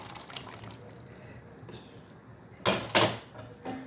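Ground coconut paste with cumin, shallots, turmeric, coriander and chili powder poured into a prawn and bitter gourd curry in a pot: faint kitchen quiet, then two short, loud liquid splashes and a smaller one.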